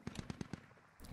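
Tracer gunfire from the Squad military shooter passing overhead: five sharp, evenly spaced cracks in a quick burst, fairly close and loud, then quiet except for a faint noise at the end.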